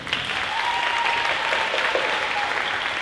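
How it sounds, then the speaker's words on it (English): Steady applause from a crowd at a high school athletics banquet fills the space, with dense clapping that continues evenly throughout. "Please give a round of applause for our All-American cheerleader, Bethany Banquet."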